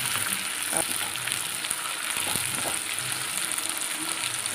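Steady crackling sizzle of food frying in hot oil for pepper chicken masala, close and continuous, with occasional louder pops and stirring sounds.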